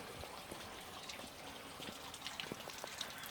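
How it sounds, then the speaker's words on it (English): Rainwater trickles out of a cowl drain on a vintage Mopar car, a light, close dribble with faint scattered drips and no voices. "see water's draining out of here"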